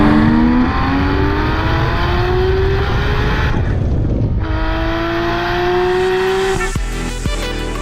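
A Porsche 911 GT3 Touring with a manual gearbox drives, its engine note rising loud and close through the gears, dipping briefly during a shift before climbing again, with no talk.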